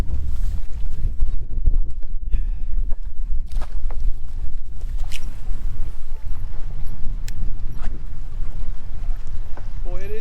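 Strong wind buffets the microphone on open water aboard a bass-fishing boat on Lake Lanier, a steady loud roar throughout with brief knocks and faint background voices.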